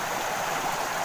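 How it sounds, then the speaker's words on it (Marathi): A natural monsoon-fed stream in the rainy Konkan countryside rushes steadily, a continuous broad wash of flowing water with no breaks, fairly close and alone. "बघा नैसर्गिक झरा बघा किती मोठा आहे."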